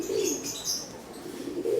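Racing pigeons in a loft give soft, low coos in two short rolling phrases near the start and the end, with faint chirps from other birds above them.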